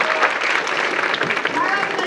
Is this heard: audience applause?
yes